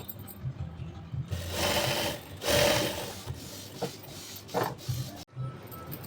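A sewing machine stitches the ruffled sleeve of a blouse in quick mechanical bursts of whirring and rattling, some short and some longer, with brief pauses between them, close and clear with no talking.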